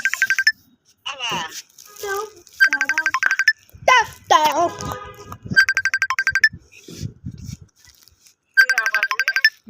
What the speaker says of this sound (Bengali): বাবা ফোন দিচ্ছে